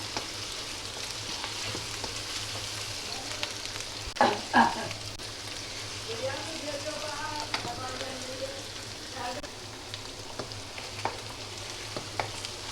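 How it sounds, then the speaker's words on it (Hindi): Garlic, ginger and cumin masala frying lightly in a pan for chicken curry, giving a steady soft sizzle with occasional stirring scrapes and faint clinks, close but fairly quiet. "ये इसमें लहसुन भी और ज़ीरा भी थोड़ा फ्राई हो गया"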